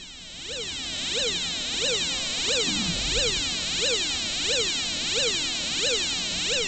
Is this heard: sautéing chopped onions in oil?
no